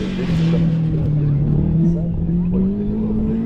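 A race car engine roars at full throttle as it launches at the Slalom de Chamblon, its pitch rising steadily and loud, with an announcer commentating over it.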